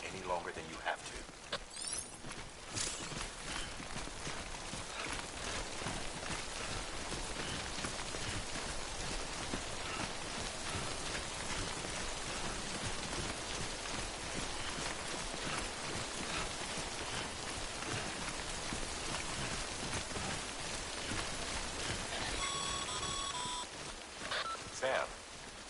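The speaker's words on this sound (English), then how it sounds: "Don't stay out in the rain any longer than you have to." Timefall rain in the video game Death Stranding, a steady broadband hiss of rainfall pouring on surfaces throughout, with a few faint electronic beeps toward the end.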